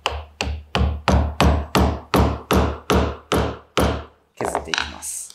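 Mallet striking a chisel to cut a mortise in wood for a stool, about twelve sharp, close, evenly spaced blows, each ringing briefly, followed by lighter scraping knocks at the end.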